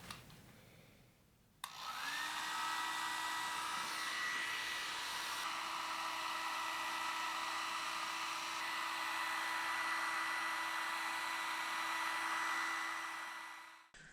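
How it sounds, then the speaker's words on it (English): A hair dryer switches on and blows steadily for about twelve seconds with a constant whooshing whine, blowing hot air on epoxy laid over carbon fiber, then cuts off. "it's just way easier to use a hair dryer"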